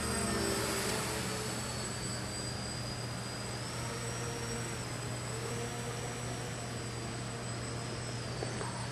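A model F-16 jet flies overhead with a steady, distant turbine whine, a high tone that rises and dips as it passes, over a constant low hum and no talk.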